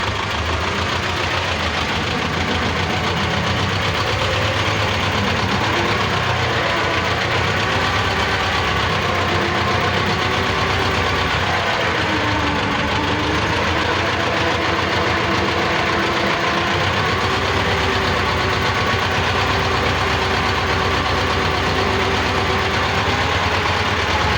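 A T-16 tractor pulling a cultivator and roller in tandem moves slowly, its engine a steady, loud, close knocking drone that runs without break.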